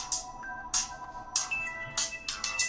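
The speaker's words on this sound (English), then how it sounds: "I got a phone call and it was distracting" A phone rings with an incoming call, sounding as a steady series of bright repeated electronic chimes. The ringing is close, clear and alone, with no talking.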